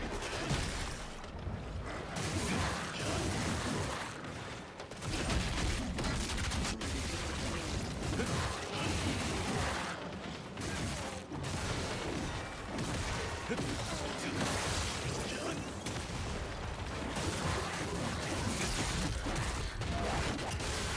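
Heavy bombardment of gunfire and explosions in the Ninja Gaiden video game, with dense rapid volleys, crashes and mechanical clatter continuing for about twenty seconds with brief lulls.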